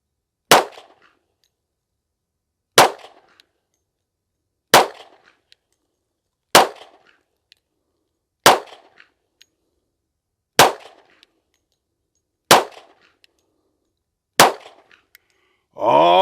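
A 10mm Springfield 1911 TRP pistol fires hollow point rounds outdoors: eight sharp, loud single shots spaced about two seconds apart, each with a short ringing decay, followed by a brief burst of other noise at the end.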